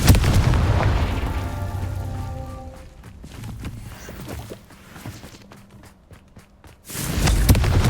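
A Confringo fire spell explosion in Hogwarts Legacy: a loud booming blast at the start with a rumbling tail, then scattered crackles and impacts, and another heavy burst near the end.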